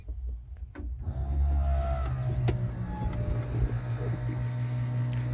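Electric convertible top motor on a Chevelle raising the top, a steady close mechanical whir with a low droning hum that starts after a second of quiet and runs continuously.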